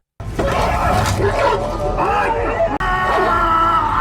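Dogs barking and snarling aggressively amid screams and groaning voices, loud and chaotic, with a brief cut partway through.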